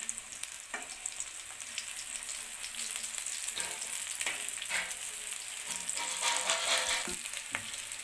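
Boiled potato snacks fry in oil with a soft, fairly quiet sizzle, punctuated by a few sharp clinks and stirring scrapes.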